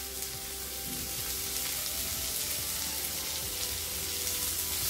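Onion and garlic sizzle in melted butter on a flat pan over a low flame, a steady dense crackle with fine pops running evenly and close throughout, with no talking.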